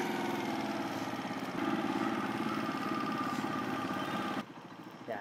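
A Honda TMX 125 Alpha motorcycle engine runs at a steady, close idle with an even mid-pitched chug, dropping off sharply near the end.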